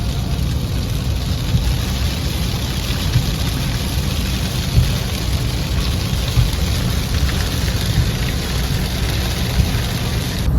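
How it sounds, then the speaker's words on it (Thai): Steady, dense rain pours down continuously on an expressway in Laos with a low rumbling background, loud and even throughout, with no voices. "ตรงนี้ฝนตก"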